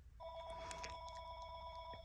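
Landline telephone on a farm ringing with a steady, electronic warbling trill, fairly faint and continuous throughout.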